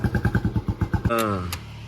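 An engine putters in quick regular pulses, then revs up sharply with a rising whine before settling, heard close up.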